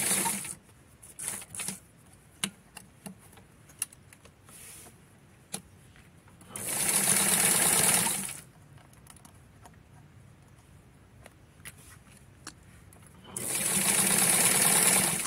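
A vintage sewing machine stitching a Victorian lace doll blouse, two steady runs of a loud close whirring hum of about two seconds each, separated by quiet handling clicks and rustles.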